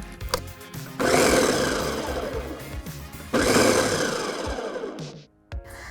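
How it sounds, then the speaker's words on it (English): A food processor pulses flour, butter and vegetable shortening in two loud whirring bursts, each roaring for about two seconds before it stops, with light clicks and handling noises between them. "We've pulsed the butter and the shortening with the flour."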